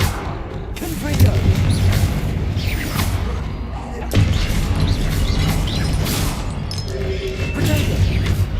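In the Hogwarts Legacy video game, the Confringo blast spell erupts in loud booming explosions over a dense, continuous battle din, with a voice calling out spells.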